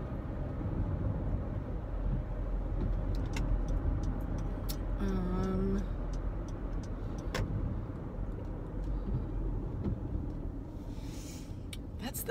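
Steady road and engine rumble from inside a car driving in traffic, with a brief two-tone horn or chime midway and a few faint clicks over the continuous drone.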